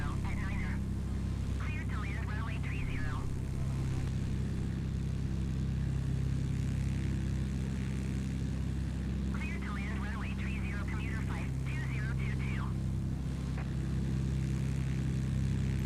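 A propeller aircraft in Microsoft Flight Simulator gives a steady, even engine drone throughout, with a voice speaking briefly over it at the start and again later.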